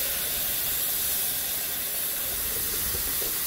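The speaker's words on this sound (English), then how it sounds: "Spray them down good one more time." Steady hiss of water sprayed over Chicago-style hot dogs steaming on a griddle, continuous and fairly loud with no talking.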